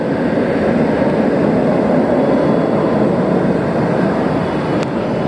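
The B&M floorless roller coaster Firebird at Six Flags America roars along its track, a continuous, loud, heavy rumble that holds steady with no voices over it.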